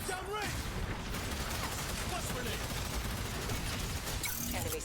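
Rapid gunfire from a team shooter video game, a dense wall of shots and bursts running throughout at steady loudness with some game sound effects mixed in.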